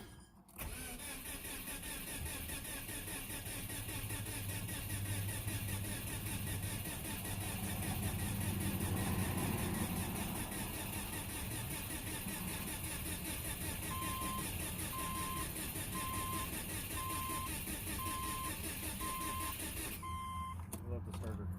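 A Subaru Legacy GT engine is cranked by its starter motor for a long stretch, a steady rhythmic whirring grind that runs almost twenty seconds without catching, then stops, with a faint repeating chime underneath and no clear talk.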